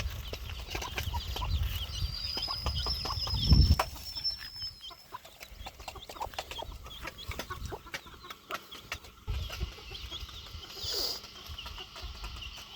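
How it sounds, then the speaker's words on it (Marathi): Chickens cluck and murmur nearby while pecking at grain, with scattered soft taps and shuffles and a thin high whistle drifting in briefly. "ते पक्षी कसे चरून राहिले आहेत दाना खाऊन राहिले आहेत"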